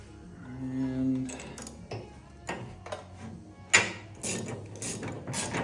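A ratchet wrench with a short socket loosens a carriage bolt on a snowblower chute during a chute rotation kit install, giving soft, irregular clicking bursts with a few sharper metallic knocks and a faint hum early on.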